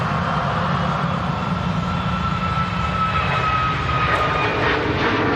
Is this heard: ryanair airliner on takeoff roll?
yes